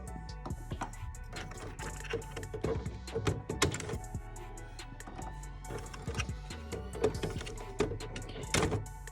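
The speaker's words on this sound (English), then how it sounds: "So we are going to open that up. We're going to take out each of the cartridges." Epson WF-7710 WorkForce inkjet printer being opened and its ink cartridges pulled out one by one, a string of close plastic clicks, snaps and thunks spread irregularly over the clip.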